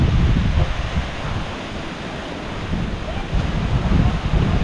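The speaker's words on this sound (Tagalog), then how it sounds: "malakas pang hangin ngayon" Strong typhoon wind gusts across an open fishpond, a steady broadband roar with low rumbling buffets against the microphone that swell and ease in waves throughout, with no voices heard.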